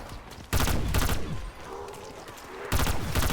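Video game gunfire in loud bursts: one long volley for about a second, a quieter stretch of scattered shots, then another heavy burst near the end.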